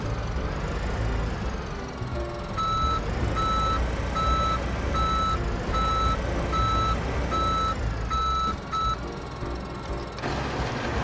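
Regular reversing beeps from a skid steer in the video game Farming Simulator 15, repeating evenly over a steady engine drone, then stopping near the end.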